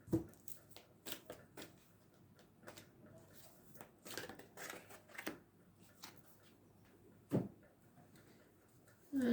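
Tarot cards shuffled before dealing in a reading, a quiet run of soft riffling slaps and papery flutters in irregular bursts, close by with no speech.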